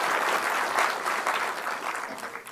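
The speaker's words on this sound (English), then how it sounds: "Ladies and gentlemen, let's give a big round of applause to Professor B.M. Hegde." Audience applause for a guest speaker at a health lecture, a dense sustained wash of clapping from a large crowd, steady and loud throughout with no voices over it.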